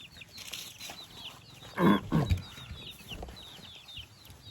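Chickens cluck and call around a rural home where a house is being built, a busy patch of bird sounds with a couple of louder squawks midway.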